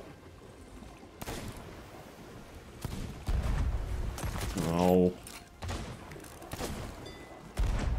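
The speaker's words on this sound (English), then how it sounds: "My cannons just are not shooting half the time." Broadside of ship cannons in a pirate-ship naval battle game fires in scattered booming volleys with a ringing hit, while a player talks and exclaims over the action.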